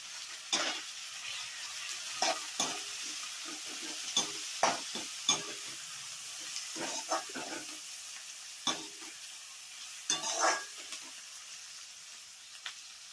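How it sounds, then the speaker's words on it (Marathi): Onion and tomato mixture with coriander and turmeric being stirred in a hot pan for a puffed-rice breakfast dish, with scattered spoon scrapes and clatters over a soft steady sizzle, close and without talk. "सगळं छान कालवून घेऊ आणि आता याच्यात हळद पण टाकून घेऊ"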